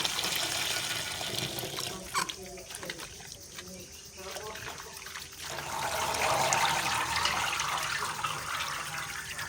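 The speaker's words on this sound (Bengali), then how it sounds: "এবার পাতাগুলো ভালো করে ধুয়ে নিচ্ছে।" Bottle gourd leaves being washed in water for a village-style leaf paste, with steady splashing and trickling that swells louder toward the end, over faint background voices.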